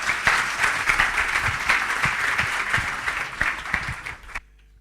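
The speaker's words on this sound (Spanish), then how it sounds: "El aplauso para Marcos Christensen" Conference audience at an IAB Forum breaking into steady, lively applause for a few seconds, close and full, then stopping abruptly.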